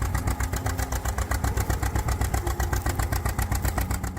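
A 1920s Model D tractor's horizontal twin-cylinder hit-and-miss engine runs close by, a loud, rapid, chugging pulse with a slightly uneven beat that continues throughout without voices.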